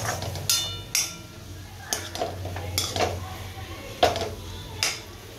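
Amaranth (rajgira) greens with salt being stir-fried in a pan, a metal spatula clanking and scraping against the pan in a run of sharp, close knocks spaced about a second apart over a low background hum.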